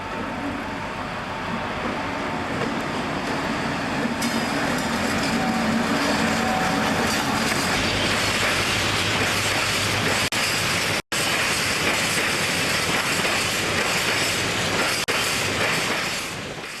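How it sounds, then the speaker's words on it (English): Class 60 locomotive 60035 Florence Nightingale hauls an empty iron ore train over the Humber Road level crossing at Immingham, a loud, sustained rumble of engine and rolling wagons with steady rail clatter throughout, broken by one brief dropout. "This is locomotive 60035, Florence Nightingale, crossing over Humber Road level crossing with an empty iron ore train."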